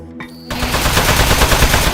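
Guns fire at metal in a loud, close burst of rapid shots, a dense rattling volley that starts suddenly and keeps going without a break.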